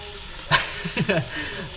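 Bacon fries in a pan with a soft, steady sizzle, quiet and close. Brief voice sounds break in over the crackle.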